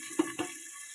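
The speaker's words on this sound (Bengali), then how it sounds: "এবার মাছগুলো আমি ভেজে নেবো এক করে।" Pieces of shing fish (stinging catfish) frying in hot oil in a pan for a Bengali fish curry: a steady, fairly quiet sizzling hiss with two short spattering bursts close together early on, no voices.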